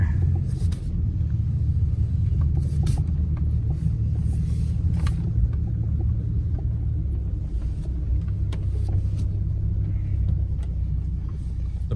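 V10-powered Dodge Ram 2500 truck pulling away and cruising, heard from the cab as a deep, steady engine rumble with road noise and occasional faint ticks and clunks throughout.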